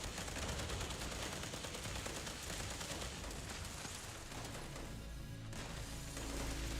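Automatic grenade launcher firing in Fallout 76, a rapid stream of gunfire-like bursts and crashing impacts that runs continuously, fairly faint and distant, with a brief dip in intensity near the end.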